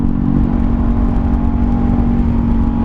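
Honda CBR500R motorcycle riding through corners: a loud, steady engine drone with a strong low hum and continuous wind and road noise, no voices.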